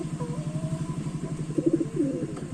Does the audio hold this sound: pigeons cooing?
yes